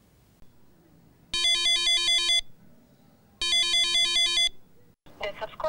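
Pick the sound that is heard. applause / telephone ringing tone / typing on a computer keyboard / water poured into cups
telephone ringing tone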